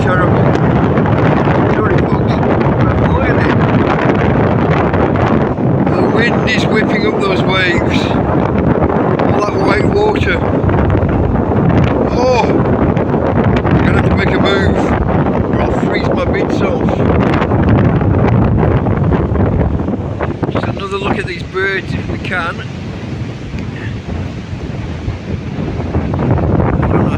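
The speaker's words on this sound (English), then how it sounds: "that's a cold wind and it's a strong wind" Strong, cold wind buffets the microphone during a thunderstorm on the coast at Torrevieja, a loud continuous roar that covers the whole stretch, with someone talking through it.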